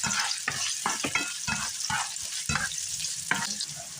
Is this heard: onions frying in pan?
yes